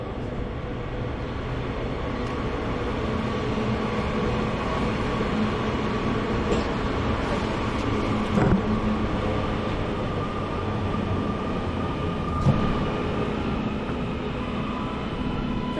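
A train pulling into Bolton station, the 11:53 service to Blackpool, rolling in with a steady loud rumble and low engine drone, a couple of faint clanks over the continuous noise.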